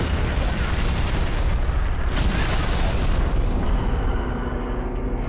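Artillery barrage exploding in Halo: Reach, a continuous loud rumbling boom with layered blasts close by, filling the whole stretch without pause.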